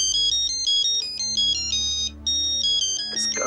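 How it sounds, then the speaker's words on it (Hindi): A telephone ringtone plays a steady, loud repeating electronic melody with a brief gap partway through, heard alone in an indoor domestic scene. "किसका फोन है?"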